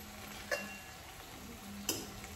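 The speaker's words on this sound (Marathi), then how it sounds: "चांगला तळून घ्यायचा आहे वडा." Vada frying in hot oil gives a steady, soft sizzling hiss, broken by a few sharp ticks and crackles from the pan, with no talking.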